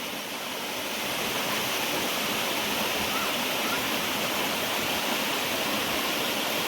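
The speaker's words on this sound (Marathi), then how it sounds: "हा एक सुंदर ऑक्सिजन पार्कमधील हा एक सुंदर असा धबधबा आहे" A steady, full roar of a waterfall in Oxygen Park, Sarade, Raigad, rushing without pause, broad and close, with a slight swell at the start.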